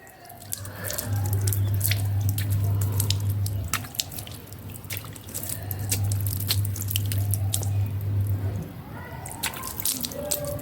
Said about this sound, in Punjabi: ਲੋ ਜੀ ਫੇਸ ਆਪਾਂ ਵਾਸ਼ ਕਰ ਲਿਆ